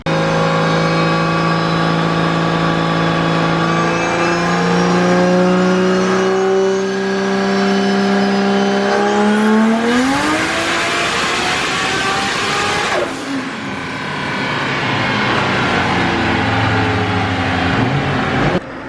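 A 3.4-litre JZ engine on a dyno revs hard through a long, rising scream that peaks sharply and then drops back to a steady, loud drone, with the harmonics climbing in pitch as the RPM builds.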